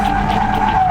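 Tyres skid in a sustained squeal as a car is thrown sideways with the handbrake into a drift, a loud steady screech with a rough rumble beneath it and no talking.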